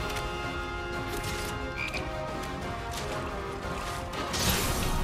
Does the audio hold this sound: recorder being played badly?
no